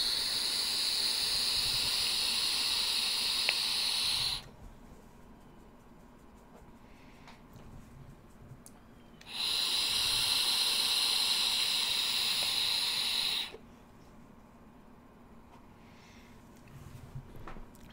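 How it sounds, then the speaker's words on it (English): Two long lung hits drawn through a Kanger Aerotank Turbo tank with airflow fully open, each a steady airy hiss of several seconds separated by quiet pauses. "I'm going to do a lung hit"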